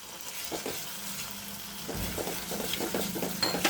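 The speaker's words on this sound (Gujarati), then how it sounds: "ટમેટાની પ્યુરી એક રસ થઈ ગઈ છે હવે આપણે તળેલા કાજુ નાખીશું" Fried cashews stirred into cooking tomato puree, a soft steady sizzle with rhythmic scraping strokes of a spoon in the pan, close and quiet, no voices.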